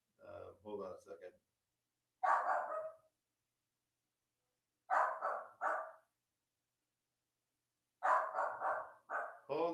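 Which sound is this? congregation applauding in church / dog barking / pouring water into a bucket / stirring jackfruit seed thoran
dog barking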